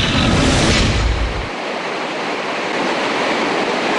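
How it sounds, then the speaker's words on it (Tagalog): Water released from Angat Dam in Bulacan roars in a continuous heavy rush, loud and broadband, with a deep rumbling surge in the first second and a half before settling into a steady hiss. "Patuloy na nagpapakawala ng tubig ang Angat Dam."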